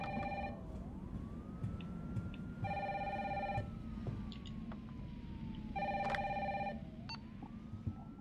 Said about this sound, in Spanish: soy el único normal que va a buscar el teléfono